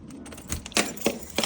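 Keys jangling in a handful, a few bright metallic rattling bursts close by, alone without talk.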